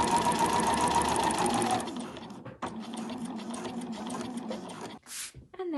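Sewing machine running at steady speed through fabric, a brief back stitch then sewing on to the end, close rhythmic motor whir with short stops and restarts.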